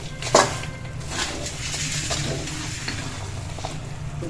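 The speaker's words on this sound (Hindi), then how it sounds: "सभी ड्राई फ्रूट्स इसमें मिला देंगे अच्छी तरह से" Dry fruits being stirred into melted jaggery for panch mewa paag, a steady close scraping and sizzling stir running throughout with a sharper clink near the start.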